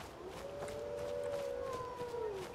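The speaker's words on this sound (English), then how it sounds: "And there go the wolves." Wolves howl in the Falskaar mod for Skyrim, a long wavering cry rising and falling at moderate distance, joined near the end by a second higher howl over a low ambient bed.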